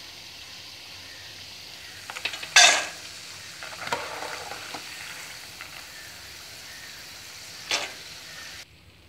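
Peanuts frying in hot oil with a quiet, continuous sizzle, broken by a couple of scraping, clinking scoops of a slotted spoon against the pan as the nuts are lifted out; no talk.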